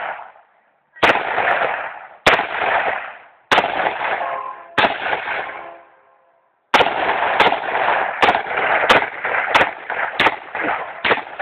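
Gunshots from a big gun ring out at an outdoor shooting session, sharp loud cracks each trailing a long echoing boom, first four spaced shots, then a pause and a rapid string of about eight more.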